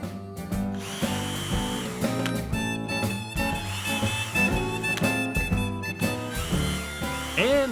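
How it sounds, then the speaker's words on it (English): A power drill bores a hole with a dowel depth stop fitted on the bit, its motor whining in several short, close bursts that start and stop, with the ratcheting chatter of the chuck in between. "Now, when you reach your desired depth, the drill will stop on its own."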